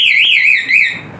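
A CR7 motorcycle alarm fitted to a Kawasaki D-Tracker sounds a loud, close electronic siren, its pitch wavering up and down in a continuous warbling tone with no talking over it.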